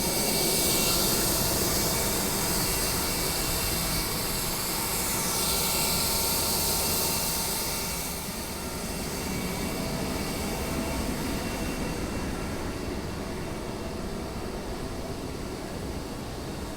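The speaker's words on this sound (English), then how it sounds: "This is the APU. You cannot check very much, and it's really loud." An auxiliary power unit on a Lufthansa Cargo MD-11 jet runs with a loud, steady broadband roar and whine, heard close up and continuous, easing slightly in the latter half.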